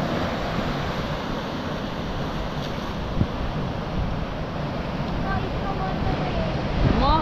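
Sea waves wash onto the shore on the Konkan coast at Harihareshwar–Shrivardhan, a continuous rushing surf mixed with wind buffeting the microphone, with no clear speech.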